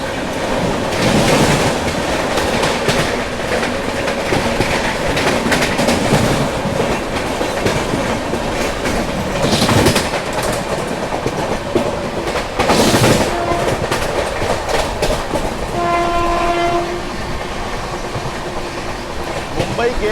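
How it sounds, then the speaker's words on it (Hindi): Rajdhani Express running fast through Mumbai's suburbs, a loud steady rush of wheels with rhythmic clickety-clack over rail joints throughout, with no talking. "मुंबई के सबअर्बन में एंट्री करते ही क्या ज़बरदस्त भाग रही है अपनी राजधानी।"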